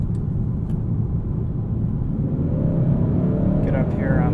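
Cabin-heard engine of a 2021 Hyundai Sonata N Line 2.5T in Sport Plus mode at launch control: a steady, loud low rumble that swells slightly and gains a higher revving tone near the end.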